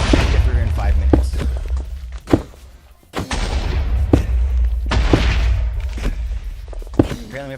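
Explosions in a game with a mansion setting go off as a series of heavy booms and thuds over a dense, noisy backdrop, with several sharp impacts scattered among them.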